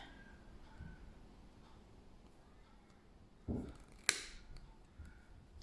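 Scissors cutting plastic binding comb rings, a soft snip and then one sharp close crack of the cut, against a quiet background.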